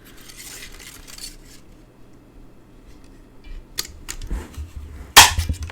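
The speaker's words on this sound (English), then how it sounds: "I'm going to punch." A paper craft punch is pressed to cut a heart shape from cardstock, first some faint rustling, then a couple of small clicks and one sharp, close snap at the end.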